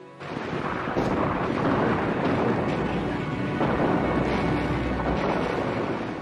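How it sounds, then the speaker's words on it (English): Continuous heavy rumbling roar of naval gunfire and an explosion, as a warship's eight 15-inch guns and those of the flagship fire on a stationary cruiser; dense, sustained and loud throughout, with no clear separate shots. "all our 8 15-inch guns, plus those of the flagship, started firing at the stationary cruiser"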